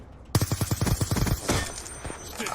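Suppressed AN-94 rifle in Call of Duty: a quick rhythmic burst of about ten muffled, close shots, followed by a softer impact and a fading tail, with no talk.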